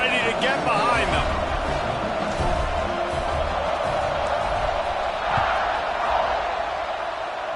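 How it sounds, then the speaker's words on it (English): Stadium crowd in the College Football 26 video game at New Mexico State versus number-one Alabama, a broad continuous roar of cheering under a commentator's voice, swelling slightly near the end. "this crowd now ready to get behind them"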